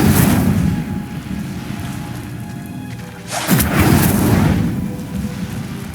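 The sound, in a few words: spell casting blasts in the video game Hogwarts Legacy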